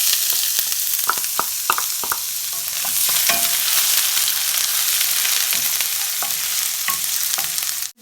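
Ginger and garlic fry in hot oil, a steady loud sizzle with scattered crackles and the scrape of stirring, close up and without speech.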